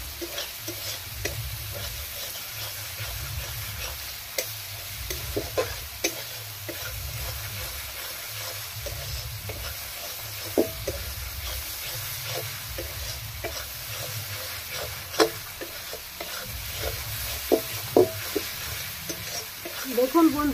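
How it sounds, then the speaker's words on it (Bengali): Spice paste for mango kasundi frying in oil and stirred steadily in a pan, with soft sizzling and repeated scraping strokes of the spoon, close and moderate in level, no talking. "যতক্ষণ না মশলা থেকে তেল ছেড়ে বেরিয়ে আসছে ততক্ষণ আমি কষতে থাকবো এই মশলাটা"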